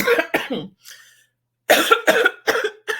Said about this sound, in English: made me cough